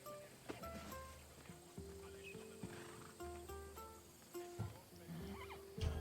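A horse in Assassin's Creed Odyssey whinnies several times amid a few clopping hooves and game sounds, with a musical backdrop running throughout.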